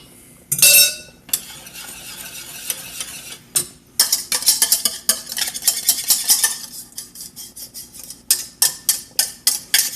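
Egg yolks stirred into brown sugar and flour for a butterscotch pie, a spoon clinking and scraping against the bowl in repeated close strokes after a few sharp knocks, with no voices.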